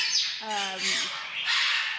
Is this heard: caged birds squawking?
yes